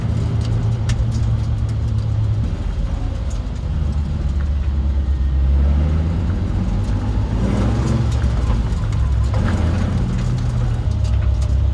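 A Nissan 350Z drives along with a loud, steady engine drone and road rumble, the pitch rising and falling through gear changes and acceleration, with no talking over it.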